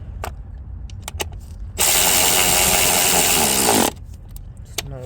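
A power tool tightens a fastener on a 2020 Ford Escape with a 1.5 turbo engine during a knock sensor wire repair. It gives one loud, close two-second whir, with faint clicks and handling before and after.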